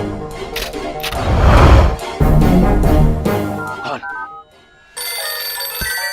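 A telephone rings repeatedly with a harsh bell tone, loud and close, in a police film scene, the ringing stopping briefly before a brighter electronic ring starts.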